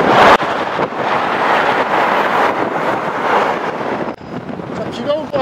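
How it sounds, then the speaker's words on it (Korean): Strong gusts buffet the microphone on the George Washington Bridge, a loud continuous roar of wind noise with passing traffic rumble beneath, briefly dipping before surging again. "바람이 엄청나네요."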